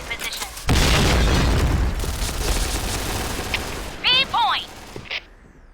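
A heavy grenade explosion in a video game erupts with a deep, loud boom. A long rumbling tail follows, under shouted game voice lines and short chirpy sound effects near the end.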